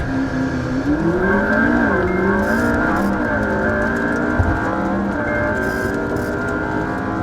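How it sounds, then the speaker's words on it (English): McLaren P1 accelerating hard from a launch-control start, engine note rising through the gears with quick upshifts, loud and continuous from inside or close to the car, with no voices. "then you just press the launch control button. Launch mode active. Here we go."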